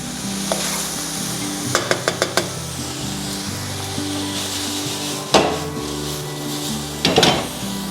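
Pinakbet vegetables stirred in a frying pan, a continuous loud sizzle broken by quick runs of utensil scrapes and clacks against the pan, with a few louder stirring bursts near the end.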